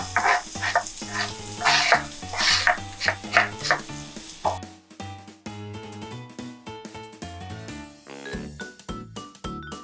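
Leeks sauté in hot olive oil in a pan, giving a steady sizzle with bursts of stirring and scraping, while soft background music plays throughout and carries on alone once the frying fades.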